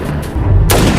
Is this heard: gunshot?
yes